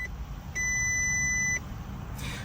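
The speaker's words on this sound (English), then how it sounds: "We'll let the beeps go away." A dash cam's high electronic tone beeps once for about a second, clear and steady, over a low engine rumble inside a car.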